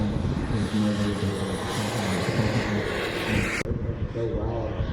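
A 1:4.5 scale CARF-Models F-4 Phantom II radio-controlled jet flies at the Joe Nall 2025 event, its turbine roaring steadily under an announcer's talk before the sound dips and changes character.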